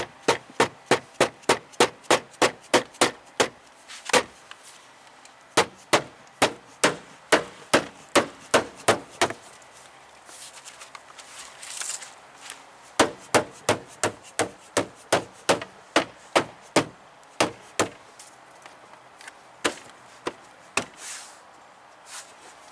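Dead blow hammer striking the pins of a rear window regulator on a 2008 Pontiac Grand Prix, sharp close blows in quick rhythmic bursts, about three runs of rapid strikes separated by short pauses.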